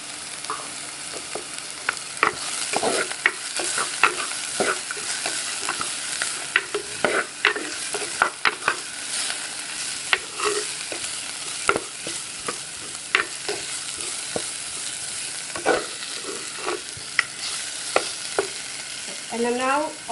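Onions sizzle and soften in a hot pan with rampa and curry leaves for a Sri Lankan baby jackfruit curry, heard as a continuous close hiss with frequent spatula stirs and scrapes, without speech.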